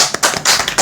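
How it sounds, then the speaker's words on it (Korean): A small group claps together at a Thursday church Bible-study gathering, a short, close burst of loud, uneven hand claps with no talking. "박수 한번 칩시다."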